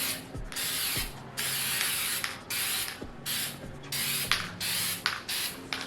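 Several short hissing bursts of clear sealant sprayed from an aerosol can onto the back of an acrylic sign, separated by brief pauses and faint clicks, close and fairly quiet.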